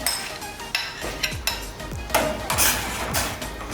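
Soaked tamarind goes into a metal cooking pot with a few clinks and scrapes of utensil on metal, short knocks spread over a few seconds, close and moderately loud, with no talking.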